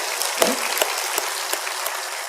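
A church congregation claps during a Korean worship service, a close, crackling patter of many hands with a few sharper accented claps standing out from the dense flutter.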